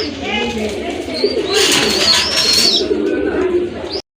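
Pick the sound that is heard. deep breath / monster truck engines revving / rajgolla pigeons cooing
rajgolla pigeons cooing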